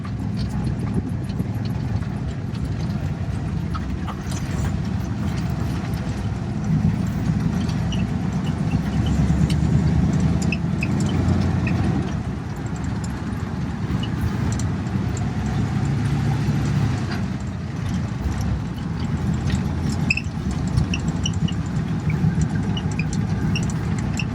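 A 1932 Ford V8 Deluxe Phaeton cruises in high gear, its low engine note droning steadily throughout with road noise and faint clatter, the level swelling gently midway.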